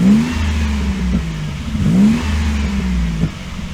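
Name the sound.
1986 Mazda car engine revving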